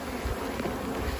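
Honeybees hum at an open hive during an early-season inspection in February, a faint, steady close buzz lasting about a second with no speech.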